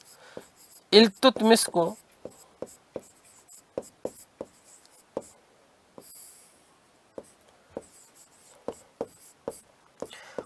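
Chalk or pen scratching out writing on a board during a Hindi-language history lesson on the Delhi Sultanate, a burst of strokes near the start and then steady taps and scrapes, with the teacher talking over it.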